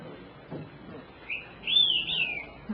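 Song of a declining Sierra Nevada bird: a few faint, soft notes, then a clear, high, slurred whistled phrase rising and falling, rather quiet against a light background hiss.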